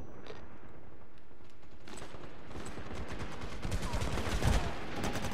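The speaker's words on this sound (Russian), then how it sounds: "откуда он стреляет?" Gunfire crackles in an online shooter game, irregular bursts of shots from near and far over the second half, with quieter mechanical rattles before.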